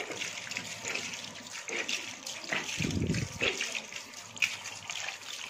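Water runs steadily from a tap as soap is rinsed from hand-washed socks, with close splashing and trickling and a brief, deeper gush midway.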